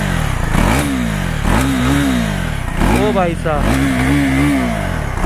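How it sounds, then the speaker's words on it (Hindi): A 2024 KTM Duke 390 BS7 motorcycle exhaust revs up loud and close in three or four repeated throttle blips, each rising and falling, with a man calling out briefly over the engine. "शोरूम में आपको अच्छे से एग्जॉस्ट नोट मैं नहीं सुना पाया, यहाँ पर एक बार सुना देता हूँ"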